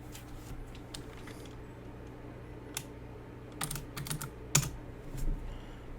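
Numbers are typed on a computer keyboard, with sparse, quiet key clicks close by against a low hum, becoming a quick cluster of louder taps toward the end.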